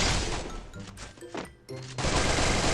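Automatic gunfire from the mobile shooter Free Fire crackles in dense, loud bursts with a brief lull midway before the rapid shots resume, no voices over it.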